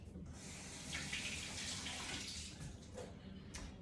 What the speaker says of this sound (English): I forgot to rinse these. I'm gonna rinse them off real quick.